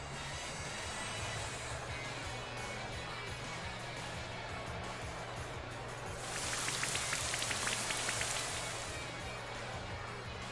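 Rain from the Rain Dance move in a Pokémon video game, a steady hiss of falling rain under a constant low game hum, swelling louder with a burst of dense drops partway through.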